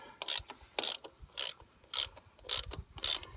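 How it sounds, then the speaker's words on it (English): A socket wrench ratchets a power steering line fitting into place on a 3000 or 4000 series Ford tractor, six evenly spaced bursts of sharp clicking strokes, close and clear with no talking. "we're going to ease it into place using our socket. We'll just pull it on into place"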